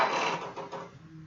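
A Brother PE800 embroidery machine powering on gives a short, close mechanical whir and clatter that fades out within about a second.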